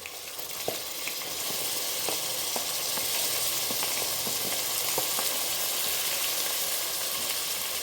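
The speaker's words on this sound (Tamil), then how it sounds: "இதே நல்லா நம்ம வதக்கிக்கலாம்." Chopped ginger, garlic, onion and tomato sauté in a pan for vegetable rice, producing a steady close sizzle broken by scattered light clicks and scrapes of stirring.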